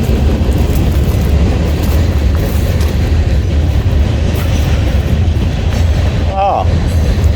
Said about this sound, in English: I won't be able to hear you because of the train